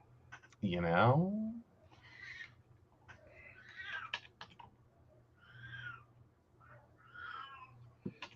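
A house cat lets out one loud, drawn-out meow up close, followed by softer chirps and murmurs while people talk quietly nearby.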